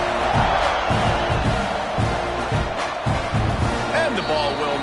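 A football stadium crowd at an Oklahoma State versus Texas A&M game roars in a continuous, dense wall of noise beneath a commentator's voice, with rhythmic thumps and a few whoops rising near the end.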